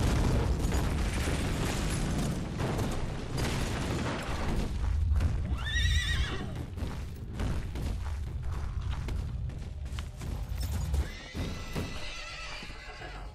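A horse neighing in the Western video game Call of Juarez, a loud whinny in the middle of busy game sound with hoof clip-clops, pops and booms around it.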